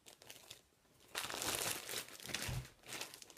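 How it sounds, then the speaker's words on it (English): Plastic yarn packaging crinkles while skeins of Juliette DK yarn are handled, a quiet rustle that swells into a louder, sustained crackling burst in the middle and then fades. "sorry for the crinkling that may happen"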